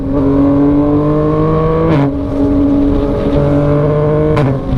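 A Yamaha MT-09 sport motorcycle with traction control off revs hard and steadily, with brief sharp quickshifter interruptions as gears change quickly, then the high roar continues.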